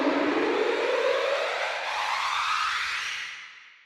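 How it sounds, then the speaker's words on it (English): An orchestral sample library plays a chromatic scale with its playable glissando legato, lush strings sliding in a dense cluster that swells and rises smoothly, then fades out, alone with no talk. "Playable glissandi is one of the standout features of this library."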